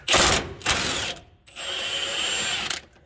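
An impact wrench on a socket works a rear bumper bolt loose on a 2007 GMC 2500, with a few loud rattling bursts followed by a longer steady whir, close by, with no talking.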